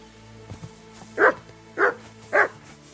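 A dog in the video game Kingdom Come: Deliverance II gives three loud, evenly spaced barks after a couple of soft yips, close and clear over a quiet in-game background.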